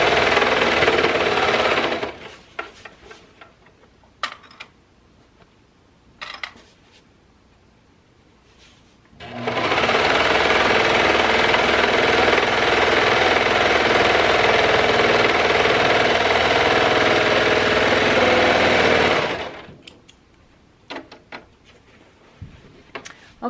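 A serger overlock sewing machine running a seam, starting with a few short bursts and then a steady loud whirring hum lasting about ten seconds before it stops, with small handling clatter around it.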